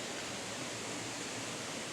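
Fairy Glen Falls, a waterfall just north of Inverness in Scotland, gives a steady, dense rush of falling water, close and unbroken, with no other sounds over it.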